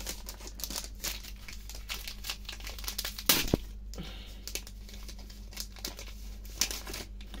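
Two collectible coin pouches being torn open by hand, with continuous crinkling and crumpling of stiff packaging and a few sharper rips and tears, close up and without talk.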